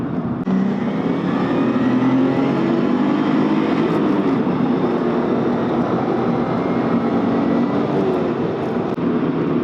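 A Nissan Z32 300ZX Fairlady Z engine accelerates from inside the car, a loud, continuous engine roar with road noise that holds steady throughout.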